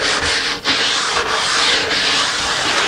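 Steady scraping strokes of a scraper pulling old wax off a ski base, close and loud, repeating in a continuous rasping rhythm with brief pauses between strokes.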